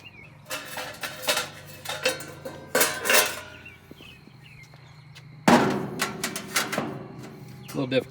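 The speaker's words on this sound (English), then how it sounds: "Got the grease covers. I'm gonna set those in place." Metal grease covers being set into a Jenn-Air outdoor grill: sharp clanks, rattles and scrapes of sheet metal in irregular bursts, close and fairly loud. A louder clatter comes partway through, and birds chirp faintly outdoors in the background.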